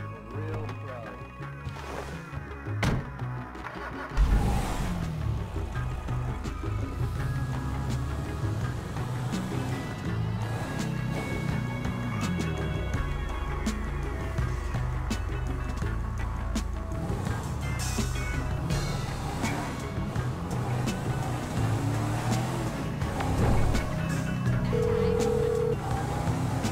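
A car in Grand Theft Auto V, played on PC at max settings, drives with a steady engine rumble, punctuated by crashes and thumps, while in-game voices talk over it.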